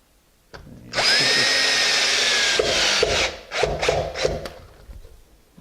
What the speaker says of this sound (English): Drilling a hole free-handed.